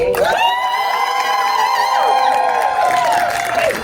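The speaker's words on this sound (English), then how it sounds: "give us a cheer" A loud crowd at the Pennsylvania Renaissance Faire's Halloween-weekend improv show cheers for a contestant, with a sustained chorus of shouts and whoops from many high voices that holds for a few seconds before tapering off.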